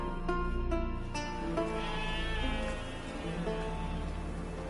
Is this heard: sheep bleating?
yes